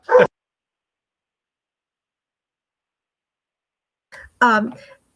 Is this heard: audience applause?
no